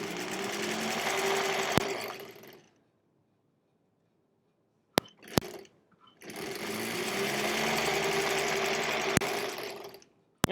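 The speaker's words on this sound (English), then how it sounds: "now that the stitching is starting, I'm just lining everything up again." A sewing machine stitches quilt-as-you-go blocks in two close, steady whirring runs, with a silent pause between them and sharp clicks as the fabric is lined up again.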